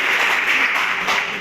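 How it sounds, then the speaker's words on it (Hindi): A burst of audience applause in a government college classroom, dense and steady clapping from many hands throughout, fairly loud and close. "तालियां बजाओ, बहुत अच्छे संस्कार"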